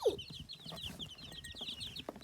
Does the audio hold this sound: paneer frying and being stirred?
no